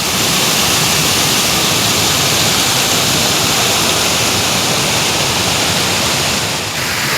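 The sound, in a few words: small mountain river flowing below a footbridge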